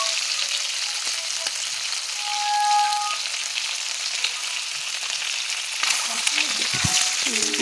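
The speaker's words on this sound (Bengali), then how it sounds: "এই যে ডিম রান্না হবে, ডিম ভাজতে লেগেছি।" Eggs frying in a pan for an egg curry, a steady broadband sizzle that continues without a break, with a brief tone partway through and some clatter near the end. No one speaks.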